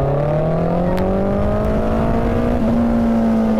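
A Hayabusa motorcycle accelerates hard on a road at night, its loud engine note climbing steadily in pitch with a constant rush of wind noise, heard from the rider's position without talk.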